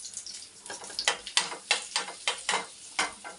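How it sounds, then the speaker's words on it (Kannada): Cumin seeds sizzle in hot butter in a pan, with a steady crackle and repeated scraping stirs in a quick, uneven rhythm, close and fairly quiet. "ಈಗ ಬಟರ್ ಕಾದಿದೆ. ಇವಾಗ ನಾನು ಜೀರಿಗೆ ಹಾಕೊತಾ ಇದ್ದೀನಿ."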